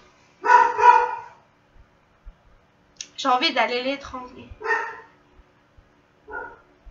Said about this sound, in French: Oh, ce chien!